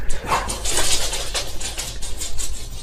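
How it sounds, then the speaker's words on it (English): Dogs in a home barking in alarm after a doorbell rings, a busy run of overlapping yaps and woofs sounding close and fairly loud throughout. "My dogs, the doorbell rang, so of course they have to tell the whole neighborhood."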